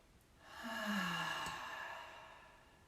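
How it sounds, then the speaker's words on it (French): A single slow breath released through the mouth during a guided meditation, a soft airy sigh rising and fading over about two seconds in a quiet room. "À l'expire, on relâche par la bouche."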